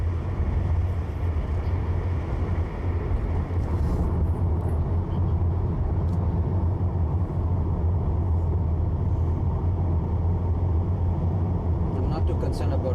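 Steady, loud road and engine rumble from an electric vehicle merging onto a freeway at around 60 to 65 miles per hour, dominated by low drone and wind noise with no pauses throughout.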